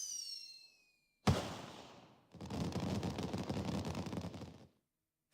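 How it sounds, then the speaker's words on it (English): Fireworks going off at a festival in the video game Blue Archive: a sharp, loud burst followed by a dense, sustained spell of crackling pops that cuts off abruptly, after a fading tonal tail. "Fireworks, the festival must have started."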